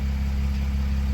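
Brief, steady low rumble of a Mercedes Sprinter van idling with an aftermarket side-exit exhaust, fairly quiet and even, with no other sounds.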